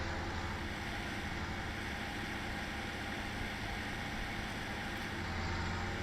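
In Farming Simulator 17, a tractor towing a large baler rolls slowly downhill, its engine a steady, dense rumble that stays constant and fairly loud throughout, with no voices.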